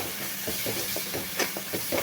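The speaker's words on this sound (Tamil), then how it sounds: "இஞ்சி பூண்டு பேஸ்ட் சேர்த்ததுக்கப்புறம் நல்லா வணக்கி விடுங்க" Chicken with ginger garlic paste sautéing in a pan for a Tamil chicken fry, a steady faint sizzle with soft stirring scrapes.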